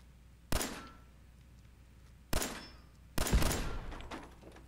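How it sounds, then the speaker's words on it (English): Three short, sharp bangs from a small explosion in the video game Fallout 4, spaced a second or two apart with quick decays, quiet overall against a low ambient game hum. "Not really much of an explosion."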